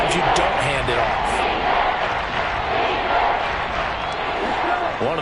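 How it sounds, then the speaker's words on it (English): Football stadium crowd roaring and cheering ahead of a big third down, a broad sustained wash of many voices at steady volume, with a commentator talking over it. "the crowd getting into it as we come up on a big 3rd down"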